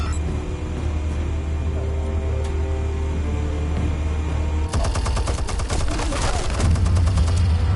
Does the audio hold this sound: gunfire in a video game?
yes